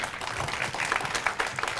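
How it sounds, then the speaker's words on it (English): Steady applause from a large audience, dense clapping filling the room without pause, with no voices rising above it. "Dr. Pude, Reza Pude, a big round of applause for our Dean."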